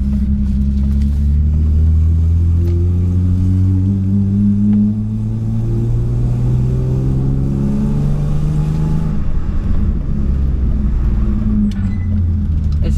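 A BMW 328i E36 coupe engine, converted to manual, hums and rumbles from inside the cabin as it accelerates, pitch climbing steadily, then dropping at a gear change before rising again.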